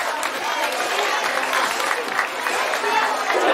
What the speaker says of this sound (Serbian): Aplauzi za njih, pa zaslužuju svi aplauz danas.